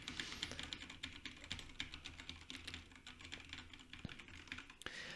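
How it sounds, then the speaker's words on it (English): Rapid clicking of computer keys being typed on, steady and fairly quiet, heard alone without any voices. "banging at the keyboard at the same time"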